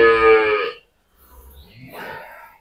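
A four-day-old bull calf of an improved dairy breed on a small farm in Thakurgaon gives one loud, close moo, then after a short pause makes a rougher, breathy second call.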